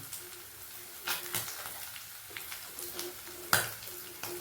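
Anchovy fish frying in hot oil, a steady soft sizzle with occasional sharper clinks and scrapes of a utensil against the pan, fairly quiet and close.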